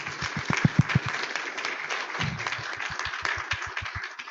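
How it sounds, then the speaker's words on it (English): An audience at a director's report meeting applauds a colleague being recognized: a burst of close, fairly loud clapping from a room of people, with a few sharp individual claps standing out before it settles into steady applause. "Can you please applaud Michael?"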